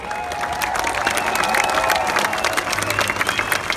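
Crowd applause and cheering at the Neste Rally Finland 2017 podium ceremony, dense clapping mixed with scattered shouts and whistles, loud and continuous throughout.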